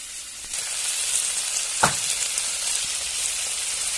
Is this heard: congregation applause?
no